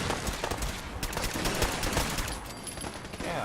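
Gunfire in Fallout 4 rattles in quick, uneven bursts of shots, dense and fairly loud, with rapid cracks blending into a continuous barrage of combat noise.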